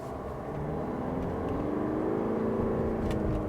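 A Mercedes-Benz GLA engine revs up at close range after a downshift, its pitch climbing steadily as the motor winds higher, with no voices.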